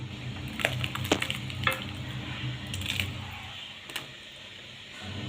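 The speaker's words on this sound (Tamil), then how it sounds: "இந்த வெல்லம் இது நல்லா கொதிக்குது" Thick jaggery syrup bubbling in a pan, soft popping bursts over a low steady simmer, close and moderately quiet.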